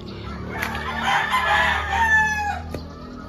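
A Wine Red Claret gamefowl rooster crows once, loud and close, a drawn-out cock-a-doodle-doo lasting a couple of seconds with a faint cluck at the end.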